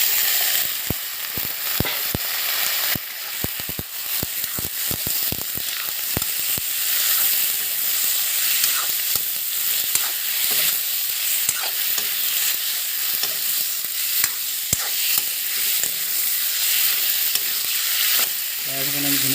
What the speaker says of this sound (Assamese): তাৰপিছত আমি ধুনীয়াকৈ অকণমান ফ্ৰাই কৰি ল'ম।